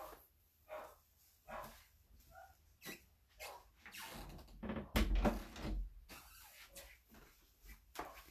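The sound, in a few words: dogs barking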